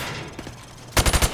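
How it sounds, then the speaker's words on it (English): Rapid burst of about four loud gunshots in Call of Duty: Modern Warfare Remastered, fired through thin plywood targets on a firing range, following quieter background game ambience. "I want you to shoot the targets through the wood."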